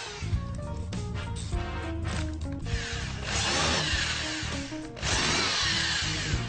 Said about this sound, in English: we drill and countersink ready for assembly